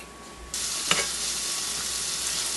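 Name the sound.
onions and vegetables frying in olive oil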